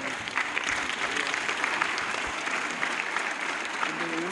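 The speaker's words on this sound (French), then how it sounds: "Tout le monde se lève et on applaudit le questeur." A roomful of visiting African political science students stands and applauds the questeur at the Assemblée Nationale, a dense, even wash of clapping that holds steady from start to finish.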